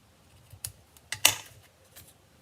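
Scissors snip ribbon tails during card making, giving two or three short, crisp cuts close by against quiet background with faint rustling.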